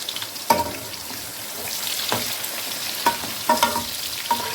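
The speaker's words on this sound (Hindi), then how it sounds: "इनको हम यहाँ पे फ्राई करेंगे जब तक कि ये गोल्डन ब्राउन हो जाए।" Medium-sized chopped onions frying in a pan for chicken biryani, a steady close sizzle broken by several sharp scraping clinks of stirring.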